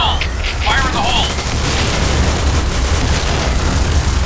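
A video-game grenade blast booms loud and close, a broad rumbling roar that fills the whole stretch and lingers as a heavy sustained wash, with a voice shouting over the start.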